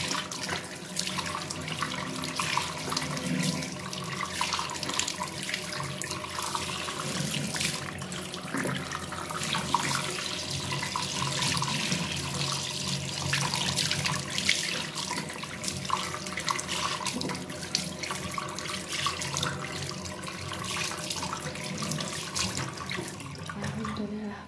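Tap water runs steadily into a sink while a face is rinsed after a coffee scrub, a constant close splashing stream with small shifts in flow, and someone talks quietly over part of it.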